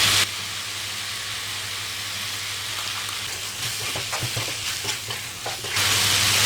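Brinjal sautéing in hot oil for a Tamil kathirikai kootu gives a steady, close frying sizzle throughout, with brief stirring scrapes in the middle and no talking.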